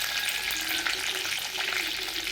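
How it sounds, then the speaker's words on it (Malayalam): Curry leaves and ginger paste frying in hot oil for a fish curry, a bright dense crackling sizzle close up, steady and unbroken with faint stirring, no talking. "കറിവേപ്പില ഇങ്ങനെ എണ്ണയിൽ കിടന്ന് തിളച്ചുകൊണ്ടിരിക്കും"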